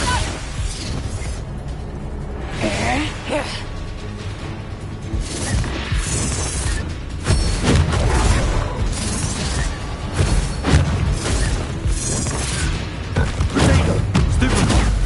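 Spell explosions burst in the Hogwarts Legacy video game, a dense run of booms, crashes and bangs layered over game music with overlapping combat sounds throughout.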